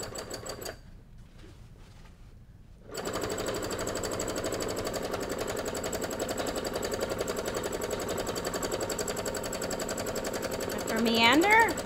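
A domestic sewing machine runs steadily for free motion quilting through a quilt's batting, a quiet start giving way to a continuous dense whirr of the needle that rises slightly near the end, with a voice speaking briefly over it.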